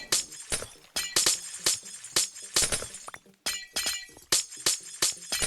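Glass-like shattering of ice blocks being broken in a video game, loud repeated smashes at a quick, uneven pace with a brief pause midway.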